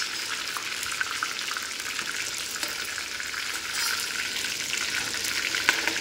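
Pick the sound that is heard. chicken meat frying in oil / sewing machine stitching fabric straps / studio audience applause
chicken meat frying in oil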